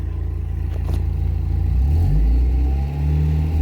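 A Mazda Miata engine revs in gear, a low rough idle hesitating before swelling into a louder, climbing rev with some clatter, close by and without talk.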